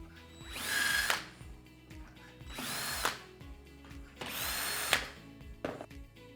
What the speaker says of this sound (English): So I can now drill the 5mm pilot holes that will help guide the plates into place